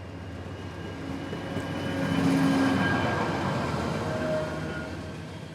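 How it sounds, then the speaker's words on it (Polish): A train rumbles steadily as it approaches a station in Gniezno, Poland, with a low droning hum and faint wheel noise swelling in loudness, then holding. "Pociąg zbliża się do stacji"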